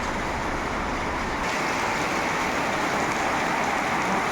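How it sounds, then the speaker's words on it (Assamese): Steady rain falls as a dense, even hiss of drops, constant and fairly loud from start to finish, with no voices. "বৰষুণ"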